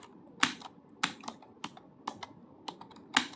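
Keys clack on a computer keyboard during Hindi typing practice, sharp separate strokes coming in an uneven rhythm of single taps and quick pairs, close and clear with no talk.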